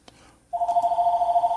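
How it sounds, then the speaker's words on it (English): A telephone rings at close range, its steady electronic trill starting partway through and continuing to the end, after a brief quiet lead-in with a faint knock. "that's the phone ringing."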